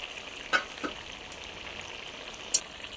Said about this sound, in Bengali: এবার আমি ঢাকা দিয়ে লাউটাকে সিদ্ধ করে নেব